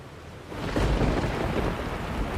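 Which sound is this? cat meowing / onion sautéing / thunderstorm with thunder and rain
thunderstorm with thunder and rain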